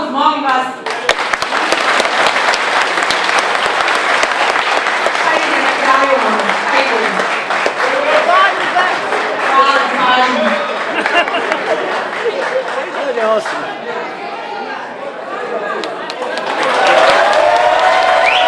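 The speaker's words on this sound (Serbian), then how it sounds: "jedan aplauz, molim vas" Wedding guests applaud loudly and steadily at a celebration, a dense wash of clapping with some cheering that runs for the full stretch, dipping slightly midway before swelling again at the end.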